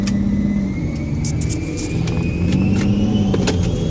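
A Nissan 350Z engine running on LPG on a dyno: a steady, loud mid-pitched drone that holds through with slight rises in revs and sharp clicks and ticks over it.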